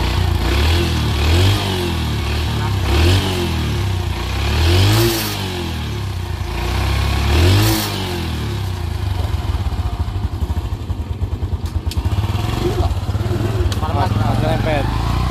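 Motorcycle engine revving in a repeated pattern of rising blips and falling drops, close and loud, with a rougher idle stretch near the end.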